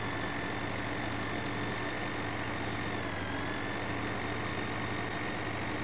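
A tractor engine in Farming Simulator 2013 drones steadily and loudly, a constant low idling rumble with no breaks and no voices.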